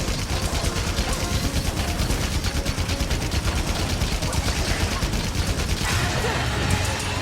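Rapid, continuous gunfire from a heavy weapon in Monster Hunter Rise Sunbreak, a dense, loud stream of shots with clattering impacts that never lets up, capped by a brighter burst near the end.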